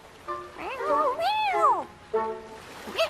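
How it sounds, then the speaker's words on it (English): A cat meows several times in quick succession, close and clear, with rising and falling drawn-out calls and a shorter meow near the end. "Here's a cat."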